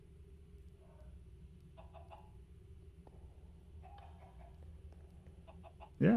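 Chickens in the Minecraft video game cluck in short, soft bursts scattered over a quiet background hum, several separate clucks at moderate distance, ending in a sudden louder sound at the very end.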